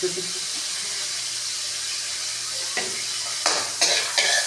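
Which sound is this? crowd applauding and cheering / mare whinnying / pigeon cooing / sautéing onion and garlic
sautéing onion and garlic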